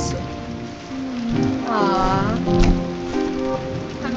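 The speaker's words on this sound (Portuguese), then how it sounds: "Você não pode correr por aí nessa chuva sem um guarda-chuva." In the video game Islets, rain pours in a steady full patter under layered game music, and a voice briefly exclaims midway.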